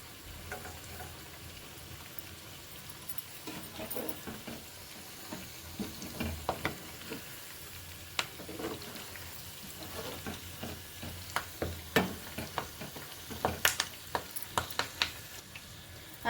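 Green chillies and curry leaves fry in hot oil while chicken pakodi is being made, giving a steady, quiet sizzle broken by scattered pops and crackles that grow busier toward the end, with no talking.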